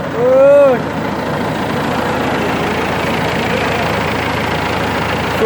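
A Ford 6610 farm tractor engine runs at a steady idle, close and constant throughout, with a brief voice at the start over the low rumble.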